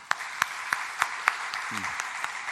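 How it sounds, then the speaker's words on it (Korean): A church congregation at a Sunday afternoon mission-dedication service claps in a steady unison rhythm, about nine sharp, evenly spaced claps ringing in a reverberant hall at moderate distance. "우리 박수 한번 하시죠"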